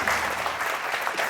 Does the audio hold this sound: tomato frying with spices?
no